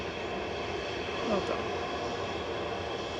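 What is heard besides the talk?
A319 airliner departing Manchester Airport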